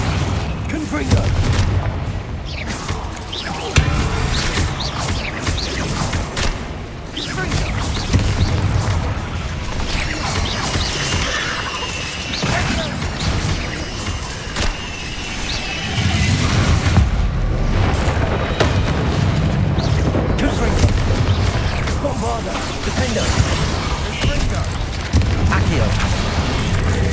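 Confringo spell explosions burst in the video game Hogwarts Legacy, with repeated heavy booms and crashes layered over a dense, continuous combat din, and shouted voices mixed in throughout.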